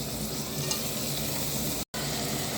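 Potatoes with softened onions frying in a pan for an egg-and-potato bhujia, a steady close, loud sizzle with faint stirring throughout and a brief dropout near the end.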